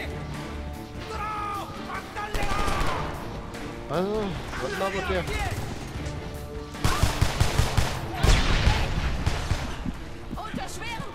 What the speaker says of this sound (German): Unter schwerem Beschuss!